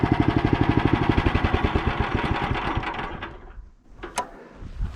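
A tractor fitted with a rotary tiller chugs nearby with fast, even engine pulses, then fades off and falls quiet, leaving a couple of faint clicks and small knocks.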